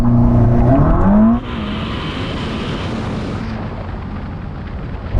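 A Ferrari SF90 and a Porsche 911 Turbo S launch side by side in a short drag race, sending out a loud rising engine roar that cuts off abruptly into a sustained rushing whoosh of acceleration. The sound is close and powerful, with no talk.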